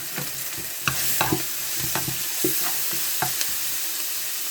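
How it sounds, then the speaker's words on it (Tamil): Ginger and garlic fry in a pan for South Indian boti curry, with loud close spoon scrapes and knocks against the pan over a steady sizzle. "இப்போ வந்து இஞ்சி பூண்டு போட்டுக்குவோம். நல்லா கிண்டி விட்டுக்குவோம்."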